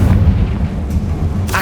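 The Confringo fire spell in Hogwarts Legacy goes off as a loud, close, booming blast. A dense low rumble holds for under two seconds, and a brief crackle rises at the end.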